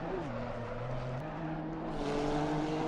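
A GT race car's tyres squealing at Bathurst during an SFR GT Challenge round, a sustained pitched screech over engine noise, steady with slight pitch shifts throughout.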